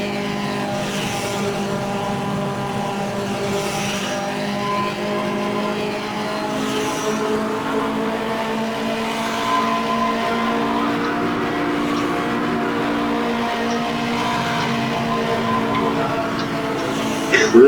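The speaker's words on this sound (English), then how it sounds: "there's just a little bit of fun in hurling this car through the corners" A 1960s touring car engine drones steadily through corners in the racing game rFactor, holding a sustained, moderately loud hum with slight pitch shifts as it accelerates and lifts, with no talking.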